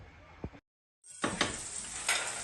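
Rice fries in oil with onion and pepper, making a soft close sizzle and scraping stir that cuts out briefly to silence, then resumes louder with a few utensil scrapes against the pan.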